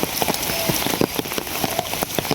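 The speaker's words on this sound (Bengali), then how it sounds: "কি পরিমাণ বৃষ্টি হয়েছে দেখুন" Rain pours steadily, hissing across a surface, with sharp drips and patters spattering nearby throughout.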